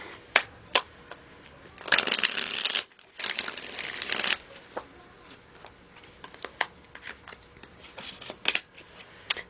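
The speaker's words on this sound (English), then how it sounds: "One more shuffle, one more shuffle." Tarot cards being shuffled, two dense bursts of papery riffling about two seconds each, with soft crinkling and scattered handling clicks before and after, close and fairly quiet.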